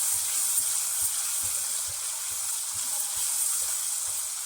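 Garam masala sizzling in hot oil while being stirred and mixed, a steady close frying hiss with faint soft scraping strokes repeating underneath.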